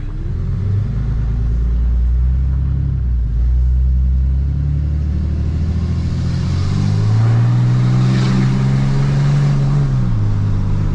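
A Ram 3500 heavy pickup truck accelerates with a loud, deep engine drone heard from inside, rising in pitch as it pulls through the gears, with steady road rumble underneath and no talking.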